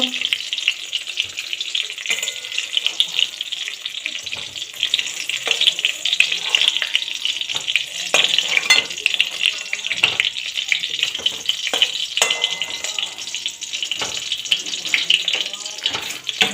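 Potol dorma, stuffed pointed gourd, frying in hot oil, giving a continuous crackling sizzle with irregular pops and spatters, close and fairly loud throughout.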